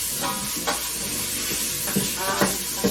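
Beef chunks browning in a hot pan for stew, a steady close sizzle with bursts of crackling and occasional stirring scrapes, no voices.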